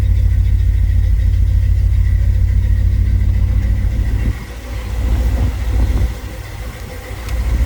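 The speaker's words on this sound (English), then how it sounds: "to actually start the car and have the starter engage, push that button" A 1976 Chevrolet Caprice Classic two-door lowrider's small-block Chevy V8 runs at a steady, loud idle close by, its level dipping briefly midway before settling again, with no talking.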